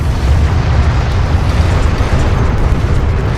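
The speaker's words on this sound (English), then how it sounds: "Enemy airstrike inbound." Enemy airstrike explosions in Homeworld: Deserts of Kharak roar as a loud, sustained rumbling blast that fills the whole moment.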